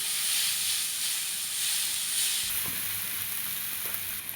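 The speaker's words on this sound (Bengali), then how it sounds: "এবার পনিরটা দিয়ে দিচ্ছি, সবগুলা খুব সুন্দর করে ফ্রাই করবো। আলুগুলো দিয়ে দিচ্ছি বন্ধুরা। এবার খুব সুন্দর করে ভেজে নিচ্ছি।" Paneer and potatoes frying in a pan for samosa filling, a steady close sizzle and hiss with occasional stirring scrapes and no talk.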